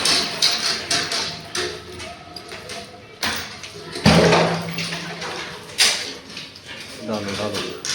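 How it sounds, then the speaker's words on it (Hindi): A metal bucket is lowered into an old well at an ancient temple site, with intermittent splashes and clanks of water below, some close and loud, alongside background chatter and movement. "ये भाई डाल रहे हैं इसमें बाल्टी"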